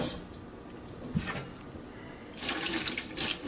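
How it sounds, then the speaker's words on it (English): Hot water poured over a crack in glass and caught in a pot below, a soft steady trickle swelling into a louder splashing stream toward the end. "I'm gonna pour that hot water right here"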